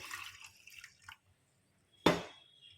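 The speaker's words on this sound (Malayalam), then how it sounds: "ജാറ് കഴുകി നമുക്ക് ഒഴിച്ചിരിക്കുകയാണ്" Water from a rinsed grinder jar is poured into a pan of sardine curry. Faint clinks and drips are followed by one short, close splash, then quiet.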